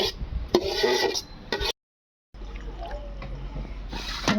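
Starchy water from cooked rice drains through a steel or silver strainer in a home kitchen, trickling and splashing with metallic clinks, interrupted by a brief cut, while people talk quietly.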